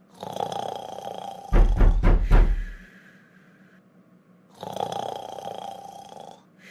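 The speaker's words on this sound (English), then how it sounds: "sleeping around all day, snoring like a pig" A cartoon character snores loudly, with long rasping inhales and a burst of snorting in between, repeating in a steady sleeping rhythm.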